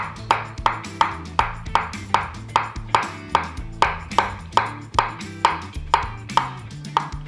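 A knife slicing potatoes on a board for Pommes Anna, with a run of about fourteen crisp, evenly spaced cuts, each ending in a sharp tap, close and clear with no talking.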